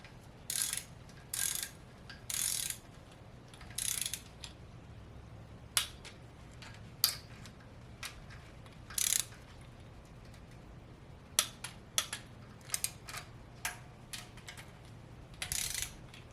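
A ratchet torque wrench tightens 8mm cylinder head bolts to 28 foot-pounds on an LS 5.3 engine fitted with ARP head studs. Short bursts of rapid clicking are separated by pauses, close and moderately quiet, with no talking.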